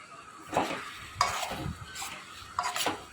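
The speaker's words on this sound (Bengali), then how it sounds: "এবার হাতা দিয়ে খুব সুন্দর করে ভালো করে এটাকে নেড়ে নিতে হবে" Mango chutney being stirred with a ladle in a pan, a few soft scraping strokes at spaced intervals over a faint background, with no talking.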